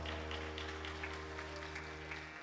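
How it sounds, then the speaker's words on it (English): A temple congregation applauds during a Satya Narayan Katha gathering for a birthday; soft, scattered clapping sits over a steady low hum and faint sustained tones. "Please give him a big round of applause."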